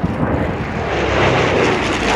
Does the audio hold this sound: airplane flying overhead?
yes